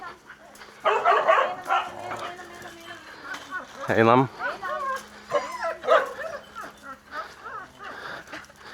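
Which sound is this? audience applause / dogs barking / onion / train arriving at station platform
dogs barking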